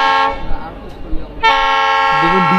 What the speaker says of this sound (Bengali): দেখুন ডিজেলের হংকিংটা শুনুন